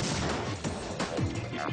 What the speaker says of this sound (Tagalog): Imbis na sa dingding pa lang, ay sabay na sumasabog ang mga charges.